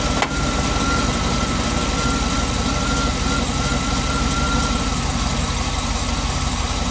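A Cadillac Escalade V8 idling with a misfire across a whole cylinder bank, heard close as a steady, rough, loud rumble with no talking.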